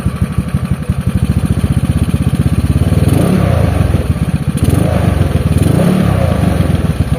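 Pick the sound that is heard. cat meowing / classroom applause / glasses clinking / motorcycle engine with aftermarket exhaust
motorcycle engine with aftermarket exhaust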